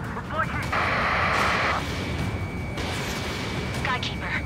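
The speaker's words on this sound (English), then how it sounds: "Missile!" A missile explosion in Ace Combat 7, a jet combat video game, booms as a broad rumbling blast over steady engine roar, with a short warning tone and radio-style chatter mixed in.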